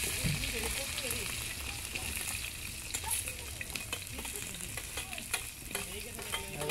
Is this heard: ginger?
yes